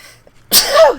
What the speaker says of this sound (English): Sneeze kind of popped up in there.